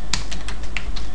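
Keys tapped on a computer keyboard while program code is edited, a handful of quick, close keystrokes spaced irregularly over a steady low hum, with no talking.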